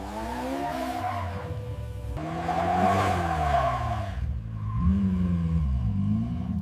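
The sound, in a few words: car engine revving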